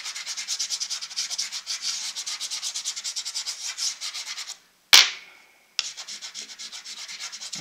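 Dry pastel rubbed on paper while drawing trees, making close, rhythmic scratchy strokes that pause briefly, break off with a sharp tap, then resume in the same steady back-and-forth pattern.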